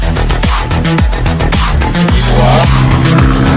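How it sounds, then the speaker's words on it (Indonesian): A Suzuki Katana with Blackcore tuning is driven in first gear without throttle. A loud, continuous engine drone dips repeatedly in pitch, close and dominant throughout. "Kita akan tes gigi satu tanpa digas pada Katana yang telah dituning Blackcore"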